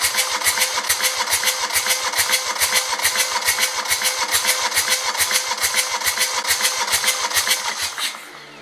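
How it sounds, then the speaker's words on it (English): A car engine idles roughly while firing on only one cylinder, its loud, evenly spaced chugging pulses repeating steadily before cutting off near the end. "We now know why the engine felt so powerless, because it was basically running on only 1 cylinder."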